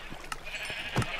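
Minecraft sheep bleat several times, short, faint bleats spaced irregularly over a steady background hum, with one louder bleat near the end.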